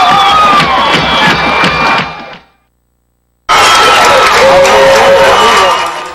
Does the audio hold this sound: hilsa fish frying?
no